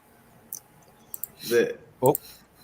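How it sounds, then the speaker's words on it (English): Keyboard typing during a weather report broadcast, heard as a few scattered clicks and two louder taps close together, faint under background voices in the room. "I hear that typing you were talking about."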